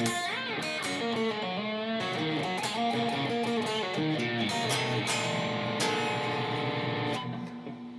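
Electric guitar playing part of the first solo from a song at full speed, a dense stream of bent, overdriven blues licks with held chords, steady and loud with no talk.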